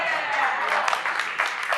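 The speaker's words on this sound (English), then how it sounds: "so can we get a round of applause?" An audience at a TABconf main-stage session claps in a brief, moderate round of applause, fairly distant and somewhat thin, with faint talk mixed in.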